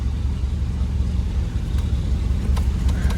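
A 1967 Ford Galaxie engine runs just after starting, a loud, close, steady low rumble of idling that holds even throughout.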